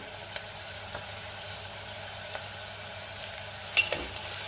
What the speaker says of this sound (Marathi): आता मी आलं लसणाची पेस्ट घालते।